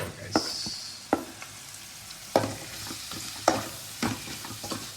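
Ginger paste and tomato frying for a country chicken curry, with a soft steady sizzle under repeated sharp scrapes and clinks of a stirring spoon against the pan.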